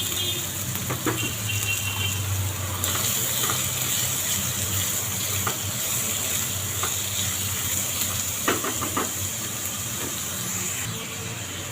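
Two large chopped onions drop into hot oil with cumin seeds and fry with a steady, bright sizzle and hiss, close and continuous, broken by a few sharp spatters and stirring clicks, with no talking.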